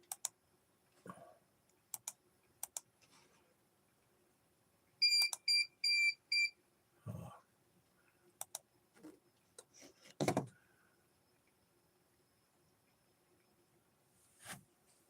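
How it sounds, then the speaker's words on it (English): An alarm system set off by raindrops lets out a short run of four quick electronic beeps among scattered sharp ticks and clicks in a quiet room. "the raindrops are triggering my alarm system."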